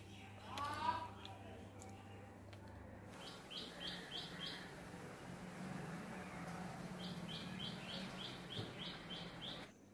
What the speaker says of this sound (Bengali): আর এইটুখানি সময় কাটাতে যার কত রকম যে পাখির ডাক